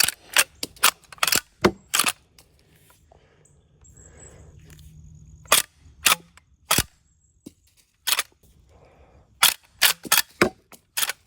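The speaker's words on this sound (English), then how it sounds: "then you can lever it out like" An 1887 lever-action rifle chambered in 70-150 WCF being cycled, sharp metallic clacks of the lever and action arriving in quick irregular clusters, close and loud, with a brief quieter shuffling pause midway.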